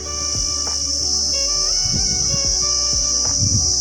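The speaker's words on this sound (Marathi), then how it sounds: "झाडावरचे पक्षी किडे कसं ओरडत आहे बघा" Insects shrill steadily in trees, a loud, constant high-pitched chirring drone that never breaks, with scattered low knocks and faint background clatter beneath it.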